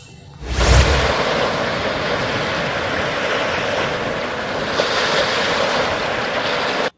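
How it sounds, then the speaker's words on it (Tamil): Rough sea and strong gale winds at Pamban, Ramanathapuram, make a loud, continuous roar of surf and wind buffeting that starts abruptly and stays steady throughout. "பாம்பன் கடலில் தொடர்ந்து வீசி வரும் சூறை காற்று மற்றும் கடல் சீற்றம்"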